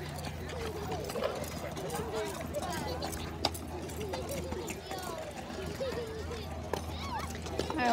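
Hooves of a lame big lick horse clop steadily on hard ground in an uneven walking rhythm, with people chatting in the background.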